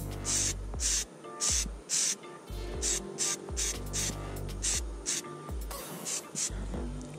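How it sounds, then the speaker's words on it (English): Repeated short bursts of aerosol prep spray cleaning a fishing lure, about a dozen hissing blasts in steady rhythm with brief pauses, close and loud. "We'll start out with the prep spray."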